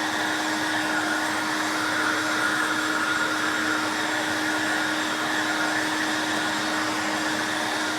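A Greenworks X-Range 60V brushless backpack leaf blower, rated 710 CFM, runs continuously nearby with a steady whooshing roar and a constant electric whine, with no speech over it.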